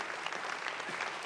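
A short burst of dense, steady applause from a crowd, with no voices over it.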